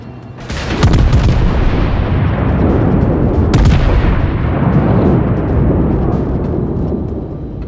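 Heavy booming explosions from torpedo hits on a warship in a naval combat video game, a loud blast near the start and another midway, followed by a sustained rumbling roar with no talking.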